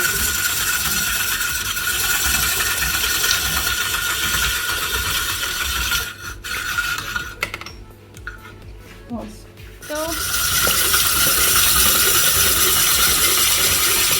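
A hand-cranked Saladmaster slicer cuts potatoes with a rapid ratcheting, whirring mechanical noise close by. The noise pauses briefly midway and then resumes at full strength.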